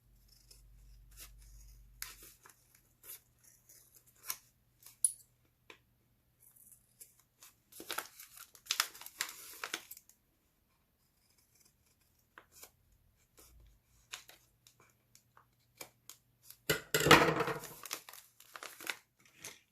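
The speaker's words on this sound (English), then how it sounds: "And if you have any white on the edge, you can just trim that." Scissors trim the edge of a paper honey bun wrapper in a quiet room, giving sparse sharp snips and light crinkling, with a denser burst of paper rustle near the end.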